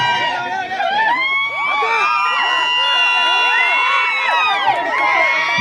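A kabaddi match crowd shrieking with loud piercing whistles and cheers, the noise dense and sustained close by, with a commentator's voice running underneath.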